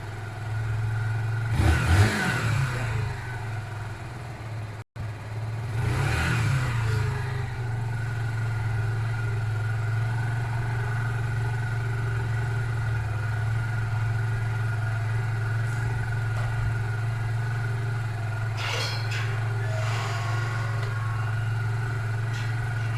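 A Zontes Mantis 125cc motorcycle engine on a test ride runs with a steady hum, rising in two strong revving surges early on, then settling into an even drone with a faint later flourish.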